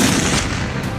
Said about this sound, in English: Nice shot, Tana.